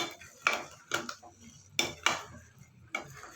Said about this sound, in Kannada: ಕಡಲೆ ಬೀಜದ ಪೌಡ್ರ್ ಹಾಕಿ ಈ ಥರ ನೀಟಾಗಿ ಮಿಕ್ಸ್ ಮಾಡ್ಕೋಬೇಕು.